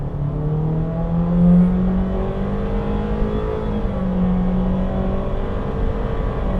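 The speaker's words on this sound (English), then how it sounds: "It does try to mimic gears there to make it feel more natural" A 2023 Honda HR-V with a CVT accelerating: a steady, loud engine drone with slowly rising tones that step up as if through simulated gears, heard up close without talking.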